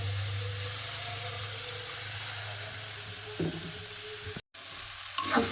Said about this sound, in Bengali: এবারে ওপর থেকে জল দিয়ে দেবো।